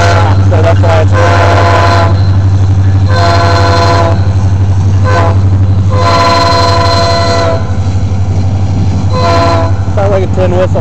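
Norfolk Southern freight manifest locomotive horn with one sealed diaphragm, giving an off, thin, tin-whistle-like high note; several loud, close blasts of varying length sound over a steady low engine rumble.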